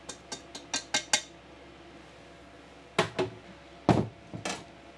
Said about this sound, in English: Gave our jam a little stir.